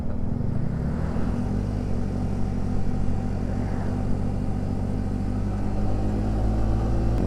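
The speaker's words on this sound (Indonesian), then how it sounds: "Motor saudara gua kayaknya ngeden banget tuh suaranya." A motorcycle engine drones steadily and laboriously under load on a long homeward holiday ride from Cilacap to Bandung, a continuous close, rumbling hum with rising pitch and no talk.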